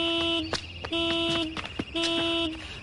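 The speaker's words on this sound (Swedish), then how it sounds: "Trots att det inte är någon trafik alls här så tutar de fortfarande." Car horns toot repeatedly on an empty street, three long honks in a row with short breaks between them. They sound fairly close but are recorded at a modest level.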